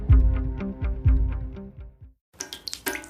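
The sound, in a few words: ceiling cracking sound effect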